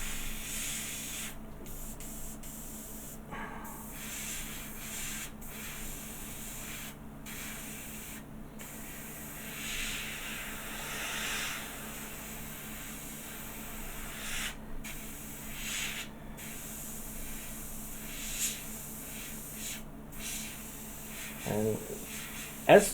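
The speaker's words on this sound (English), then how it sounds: "whenever you're using the airbrush, you keep the airbrush moving. Do not keep it in one place." An airbrush sprays paint onto a Doctor Who Airfix model kit, giving a soft continuous hiss broken by short pauses, with a quiet compressor hum underneath and occasional talk.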